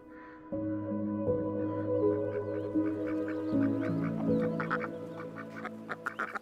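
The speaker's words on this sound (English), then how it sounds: "Ducks, as well as other birds, land and take off again" Ducks quack repeatedly in a noisy chorus in the Danube wetlands, with several birds calling over one another and a steady low drone underneath.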